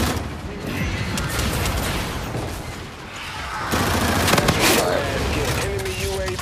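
Sustained gunfire in Call of Duty: Infinite Warfare team deathmatch, dense overlapping shots and explosive bursts loud and continuous over several seconds.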